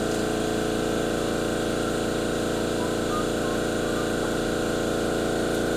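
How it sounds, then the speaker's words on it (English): Air compressor running in a home garage during a Mustang engine teardown, a loud, steady, pulsing mechanical drone with constant motor hum and no letup. "damn that air compressor"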